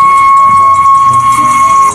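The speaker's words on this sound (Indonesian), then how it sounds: "Di sini ada kereta api Thomas." A Thomas toy train gives off a steady, high electronic whistle-like tone over busy background clatter, with voices faintly underneath.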